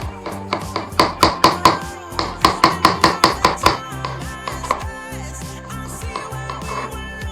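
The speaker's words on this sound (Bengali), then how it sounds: "এখন আমরা কাটবো শিমলা মরিচ।" A knife slices a bell pepper on a cutting board in a kitchen, a quick run of sharp, evenly spaced chops up close, then sparser, softer cuts and light clatter.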